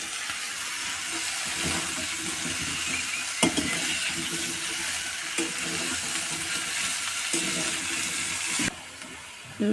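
Sizzling and frying in a pan of Bengali mustard curry as drumstick pieces and potatoes are added for sajna chorchori, a steady close hiss broken by a few sharp clatters near the end, with no talking.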